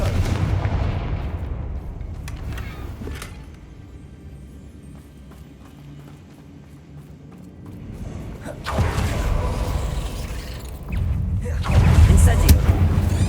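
Confringo spell blasts go off in the Hogwarts Legacy game as loud, booming fiery explosions, several heavy bursts separated by quieter rumbling stretches, with the loudest near the end.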